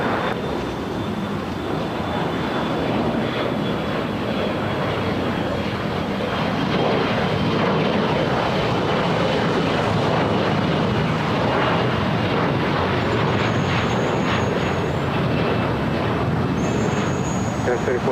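Embraer E175 LR regional jet taking off at LAX, a loud sustained engine roar that holds steady throughout without letting up.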